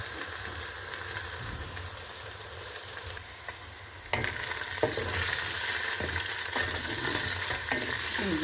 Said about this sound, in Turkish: suyunu çekti ve artık kavruluyor